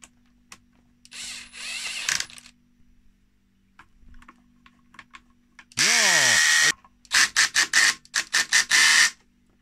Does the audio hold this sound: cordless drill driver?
yes